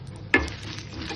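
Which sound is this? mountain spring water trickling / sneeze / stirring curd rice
stirring curd rice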